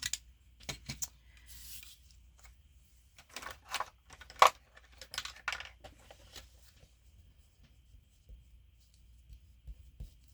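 A handheld paper punch cuts a closure flap from junk journal paper, making a scatter of sharp crunching clicks and rustles at close range, with quieter paper handling between them and a faint low hum underneath.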